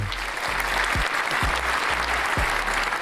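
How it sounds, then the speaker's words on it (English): Applause on a podcast set, a small group clapping steadily throughout, with low thumps knocking underneath the claps. "Give it a round of applause."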